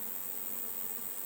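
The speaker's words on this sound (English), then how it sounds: "A lot of bees here, very active today." Honey bees from a busy overwintered colony in a modified Payne's poly hive stacked with supers hum in a dense, steady buzz close up, with no voices.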